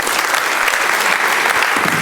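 Audience at a panel discussion on climate engineering applauding a speaker, dense sustained clapping from a full room, loud and even throughout.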